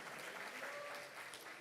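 Sustained group applause at a youth church service held in Quechua, many worshippers clapping together in an even, unbroken wash of sound, fairly loud and close, with faint voices mixed beneath.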